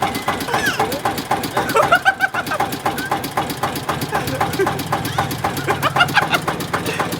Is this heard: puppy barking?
no